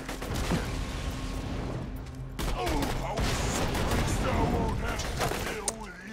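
Rapid gunfire from the video game Borderlands 2 crackles in dense bursts through a busy firefight, loud and close, with a player talking over the shooting.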